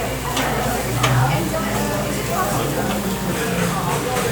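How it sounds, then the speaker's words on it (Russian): Pork frying and sizzling on a grill at a Korean restaurant on Jeju Island, a steady close crackle running throughout beneath restaurant chatter and clatter, with voices talking nearby. "Пока у нас жарится свининка"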